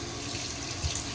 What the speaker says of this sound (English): So we can just rinse that part off.